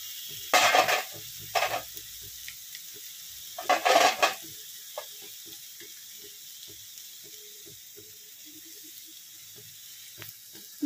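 Papaya halwa with fried dry fruits is stirred in a pan, giving a few short scraping and sizzling bursts early on, then only faint soft clinks and quiet pan noise.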